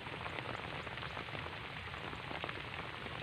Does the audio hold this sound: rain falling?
yes